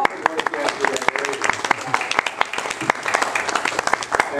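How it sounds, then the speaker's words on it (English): Church congregation applauding together, a dense patter of many hands clapping in a steady wash throughout, with some voices mixed in. "And Vera, thank you for coming in so that we can applaud you for your work yesterday."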